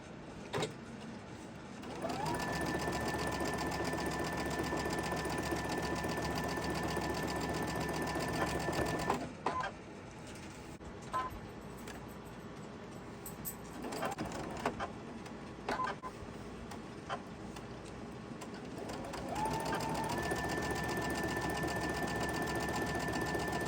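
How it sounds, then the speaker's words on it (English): A sewing machine stitches together white fabric in a loud, steady mechanical whir that runs in long bursts with brief pauses and clicks between them. "let's go ahead and sew this together"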